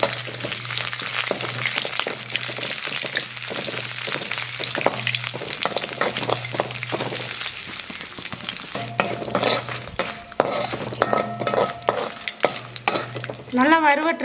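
Ingredients for radish chutney fry and are stirred in hot oil in a pan, giving a steady sizzle under repeated scraping and clinking strokes of a spoon. A steady background hum runs through, and some sharper scrapes come toward the end.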